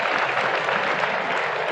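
A classroom of students in a Delhi school claps together, a dense, steady patter of many hands lasting under two seconds, fairly soft and even throughout.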